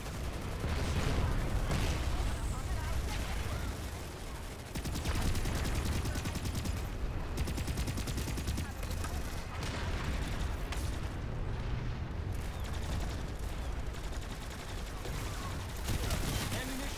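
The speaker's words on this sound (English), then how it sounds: "That's enemy Bastion, so you shoot at me!" Enemy Bastion gunfire in the sci-fi shooter Planetside 2 roars as a continuous, dense barrage of overlapping shots and blasts, fairly distant and muffled, sustained for the whole stretch.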